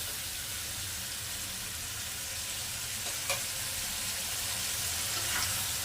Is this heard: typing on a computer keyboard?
no